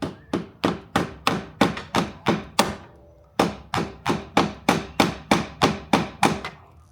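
A small hammer taps carpet tacks near glass on a Jaguar MKII, sharp quick even runs of blows, a brief pause splitting two bursts of close tapping.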